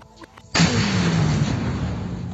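A homemade bomb set off by women fighting military rule in Myanmar explodes with a sudden loud blast, then a heavy, rumbling roar that stays strong to the end.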